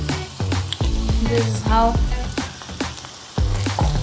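Ground beef with soy sauce sizzles in the pan as it is stirred, a steady crackle running under a person talking close by.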